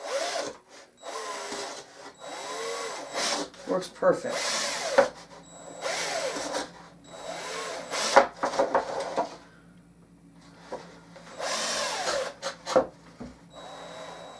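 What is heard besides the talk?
drilling small holes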